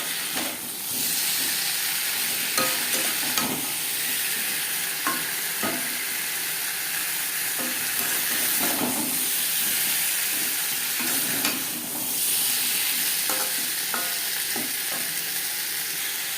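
Pointed gourd and boiled potatoes fry with salt and turmeric, a continuous loud sizzle of hot oil with repeated scraping stir strokes and no talking.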